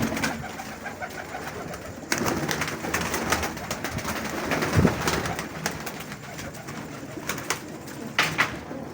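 Pigeons coo softly and repeatedly amid rustling and scattered clicks and thumps, with the birds close by and no talking.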